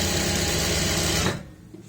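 A sewing machine hums steadily as it stitches a folded pant hem, a dense continuous whir running close and loud before stopping abruptly near the end, leaving only faint room noise.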